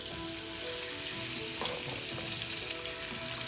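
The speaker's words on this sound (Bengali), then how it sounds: "তেলটা অনেকটাই গরম হয়ে গেছে। এখন এখানে আমি দিয়ে দিব বেশি করে পেঁয়াজ।" Onions sizzle and fry steadily in hot oil for a village-style Bengali dish, a loud continuous crackle with a few stirring scrapes partway through and no talking.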